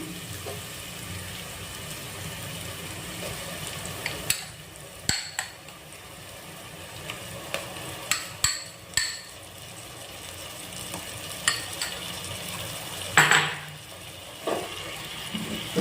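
Garlic, coconut and green chili paste is stirred into chicken pulao in a pot, making a soft, low simmering bed broken by sparse, sharp spoon knocks and scrapes against the vessel.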